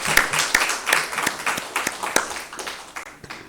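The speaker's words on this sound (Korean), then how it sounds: "큰 박수로 격려하겠습니다." A Korean church congregation at a Sunday worship service gives a round of applause to the church school children, a fairly quick run of claps that thins out toward the end.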